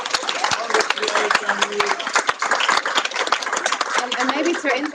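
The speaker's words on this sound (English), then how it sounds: "So applaud to Eve." Applause from an audience at a Lupus Working Party meeting as a new research lead is welcomed, a dense wash of hand claps that holds steady across the whole stretch.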